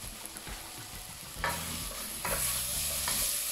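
Peppers being stirred and sautéed in a frying pan, a soft sizzle under several bursts of utensil scraping and clattering against the pan, close and moderately loud.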